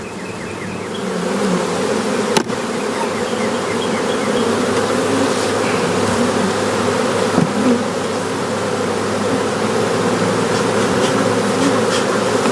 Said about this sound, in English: Bees are a little excited